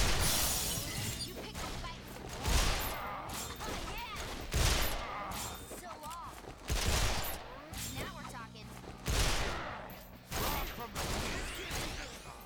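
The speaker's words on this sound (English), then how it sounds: "they're all shooting at him" Gunfire in the video game Resonance of Fate: repeated volleys of rapid shots layered with shattering impacts and swooshes, recurring in loud surges every couple of seconds over a busy game soundtrack.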